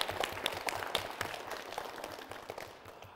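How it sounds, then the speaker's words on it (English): Applause at a speech contest or debate event, a brief round of scattered clapping at moderate level with distinct individual claps over a faint room background, tapering slightly toward the end. "Let's give him a round of applause."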